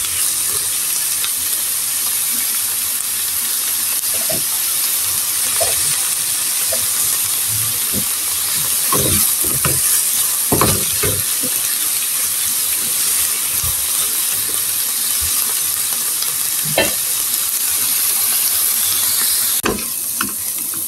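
Sliced onions fry in a pan, salted, for an onion and garlic bharta. A loud, steady hiss carries scattered clicks and stirring knocks throughout, with no talk.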